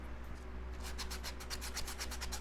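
Steady rasping strokes of sandpaper taking burrs off motorcycle fairing edges, quick repeated passes at close range, with a low hum underneath.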